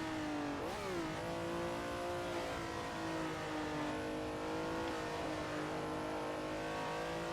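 A Ferrari 330 P4 race car hot lapping in a racing game, its engine droning steadily at high revs with distinct gear shifts and pitch swoops, continuous and fairly quiet, no talking.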